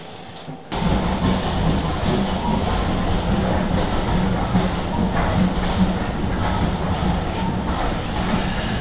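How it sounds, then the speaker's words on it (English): Train passing near a workshop, a steady loud rumble with rolling wheel clatter that swells in just under a second and holds for the rest of the clip, with faint speech beneath it. "we appear to be starting all of our videos with a train going by"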